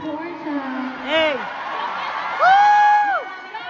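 Concert crowd at a world-tour show in the USA cheering, whooping and shouting loudly and continuously, with rising excited calls standing out near the end.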